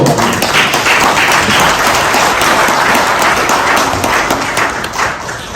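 A crowd at a Korean public forum on the unconstitutionality of the Democratic Party applauds to welcome adviser Ko Young-ju, a dense, steady wash of clapping that holds for the whole stretch before easing slightly at the end.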